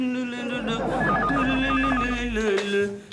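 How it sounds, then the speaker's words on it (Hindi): Telephone ringing in a home in a Hindi comedy series, a repeated trilling electronic ring over a background of voices and music, fairly close and clear. "आपका फोन।"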